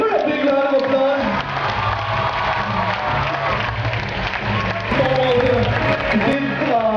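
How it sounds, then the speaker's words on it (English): An audience at a young authors contest prize ceremony claps and cheers, a loud sustained wash of applause with shouts and voices mixed in, while music plays underneath. "Give her a big round of applause."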